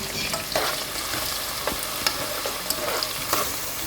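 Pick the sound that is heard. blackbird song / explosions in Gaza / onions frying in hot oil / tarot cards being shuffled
onions frying in hot oil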